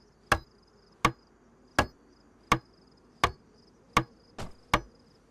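In a video game, a hatchet hammers nails into planks while a camp watchtower goes up. Seven sharp, steady knocks come about once every three-quarters of a second over a quiet hum, with no speech.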